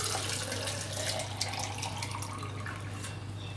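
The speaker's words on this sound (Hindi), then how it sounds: "ये कुकर में हम फिर 2 जग पानी डाल देंगे।" Water from a jug is poured into a pressure cooker in a kitchen, making a steady, fairly loud splashing stream that carries on without a break over a low steady hum.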